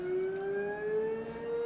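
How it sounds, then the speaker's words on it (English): An outdoor siren wails with a steady, slowly rising tone, muffled as it comes indoors through the vents of a window air conditioner, distant and fairly faint, with no talking. "It's really gonna keep going, huh? Fucking siren."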